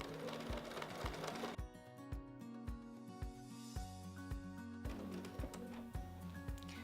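A sewing machine stitches a quilt guided along a Grace quilting ruler, its needle thumping in a steady, rapid mechanical rhythm, close and fairly loud, with a brief change in pace midway and no voices.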